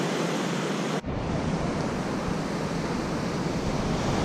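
Ocean surf at Ormond Beach, Florida, rolls and hisses as a steady, loud broadband wash. A brief dip near the start gives way to a continuous roar with no voices.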